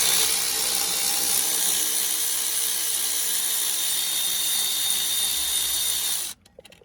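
A power tool, likely an impact gun, runs steadily and loudly up close while taking off the turbo mounting bolts on a 2002 truck, then cuts off abruptly near the end.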